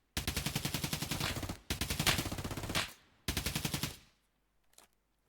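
Rapid automatic gunfire traded in a competitive Pinnacle NA tournament match of a video game, three dense bursts close together, then a faint shot or two as it trails off.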